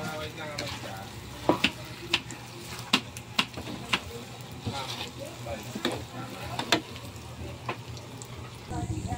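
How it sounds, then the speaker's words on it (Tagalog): Glutinous rice goes into a pot for biko with a run of sharp clinks and scrapes over a soft, constant sizzle, while a person talks nearby. "ilalagay muna natin yung malagkit"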